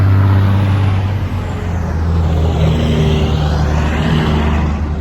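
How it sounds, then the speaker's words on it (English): A heavy flatbed truck engine rumbles steadily nearby as it drives past, a deep drone with a brief hiss partway through, holding loud and close for the whole stretch. "I hear a big truck coming."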